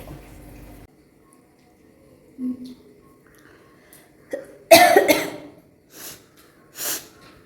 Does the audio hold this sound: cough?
yes